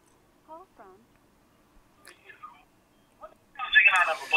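A telephone rings faintly with short, sparse electronic tones, followed by a louder burst of phone-line noise as an incoming call is picked up.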